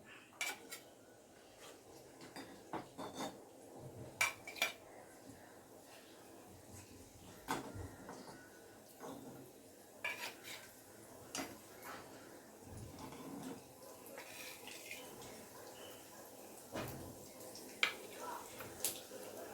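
Scrambled eggs are scooped from a pan onto a plate with a utensil, giving scattered scrapes and light metallic clinks of spoon on pan, fairly close and unhurried, with brief pauses between strokes and no talking.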